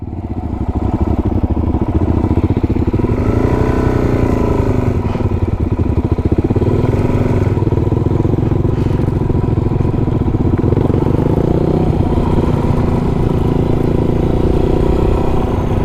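A motorcycle engine idles and runs steadily near the Wynoochee Dam, a loud, continuous rumble with slight rises in pitch, close up and with no talking.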